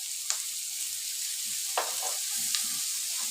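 Garlic and chili peppers frying in a pan for an Egyptian oxtail tagine, a steady soft sizzle with a few sharp crackles, close and alone.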